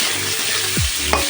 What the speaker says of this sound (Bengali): অল্প পরিমাণ আমি লবণ দিয়ে দেবো, দিয়ে এটা একটু ভেজে রেখে দেবো।